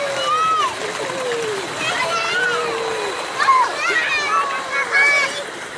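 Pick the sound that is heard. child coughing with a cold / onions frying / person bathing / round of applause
person bathing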